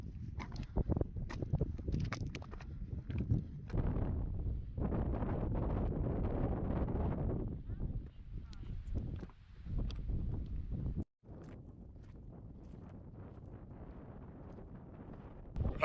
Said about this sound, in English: hopefully it should counteract some of the gusts we're getting. But it's nothing bad, it's just constant gusts